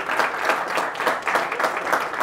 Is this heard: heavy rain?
no